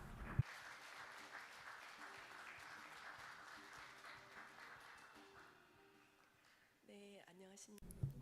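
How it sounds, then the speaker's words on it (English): Audience applause for a speaker at a marine bioscience forum, a steady, quiet wash of clapping that fades out over several seconds before a single voice starts talking. "please give her a big round of applause."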